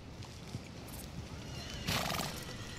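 A horse in Red Dead Redemption 2 whinnies briefly at moderate loudness over steady clip-clop hooves and background ambience, with no talk.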